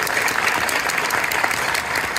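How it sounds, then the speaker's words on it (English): A comic convention Q&A crowd claps loudly and continuously for an actor, a thick, uniform roar of hands filling the whole moment with no pause. "Let's give him a round of applause for that."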